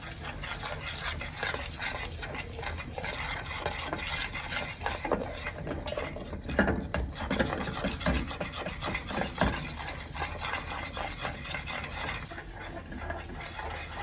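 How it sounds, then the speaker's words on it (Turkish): Flour being stirred and toasted in a pan for a béchamel sauce in a restaurant kitchen, a steady scraping and rasping of utensil against metal running continuously and fairly close, with no talking. "Unumuzu da bir tutam kavuracağız."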